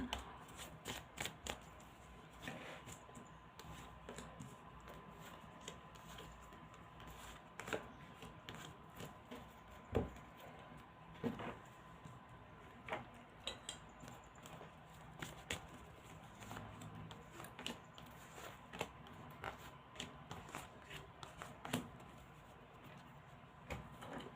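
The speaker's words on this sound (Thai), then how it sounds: "ขออนุญาตเปิดไพ่ก่อนนะคะ" Tarot cards being laid out and turned over on a table during a Thai fortune-telling reading: soft, faint papery slides and light taps scattered irregularly under a low steady background hum, no talk.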